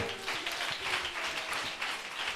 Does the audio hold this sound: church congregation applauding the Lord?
yes